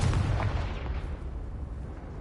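A Bombarda spell blast in Hogwarts Legacy, a loud, heavy explosive boom already ringing at the start and rumbling away over two seconds, with no speech.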